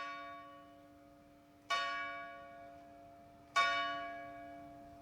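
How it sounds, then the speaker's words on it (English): A church bell in the grounds of Queens' College, Cambridge tolls twice, each strike ringing out with a long shimmering decay, slow and evenly spaced, heard alone. "just as the bell was tolling"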